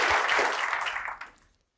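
A snooker crowd at the World Snooker Championship applauding a good safety shot, a short warm burst of clapping that fades out within about a second and a half.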